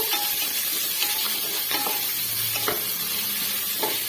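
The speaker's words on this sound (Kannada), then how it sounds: "ನೋಡಿ, ಚೆನ್ನಾಗಿ ಫ್ರೈ ಆಗಲಿ ಈರುಳ್ಳಿ" Onions fry in oil in a pan for wheat-grit upittu, a close, steady sizzle broken by scraping stirs and a few sharp pops, with nobody speaking.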